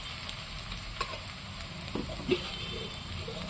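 Onions softening in a pan for a chicken dish, a low steady sizzle with a few faint stirring scrapes and small clicks, close by and with no talk.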